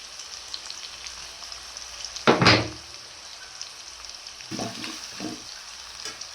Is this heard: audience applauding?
no